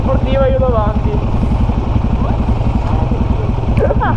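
A group of four motorcycles riding together with a sport bike out front, their engines droning loud and steady throughout while a voice talks over them.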